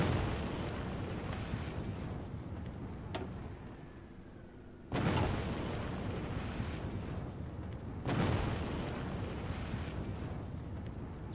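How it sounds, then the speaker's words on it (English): Nuclear strikes hitting the Maginot Line in the strategy game Hearts of Iron IV: three heavy booms, each with a long rumbling tail, spaced a few seconds apart. "Let's nuke the hell out of the Maginot Line again."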